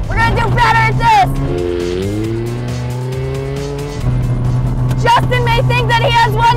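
A Honda CRX fitted with Lambo doors revving hard under acceleration, engine note climbing and shifting, loud and close, with a person's voice over it at the start and end.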